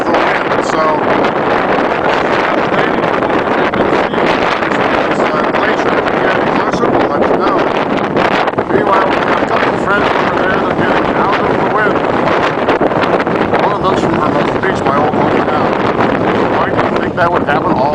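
Strong wind buffets the microphone on an exposed mountain trail in Patagonia, a loud, continuous gusty roar that lasts throughout.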